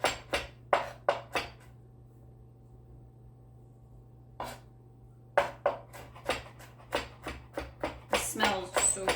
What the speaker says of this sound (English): I'm just gonna run my knife through and chop them up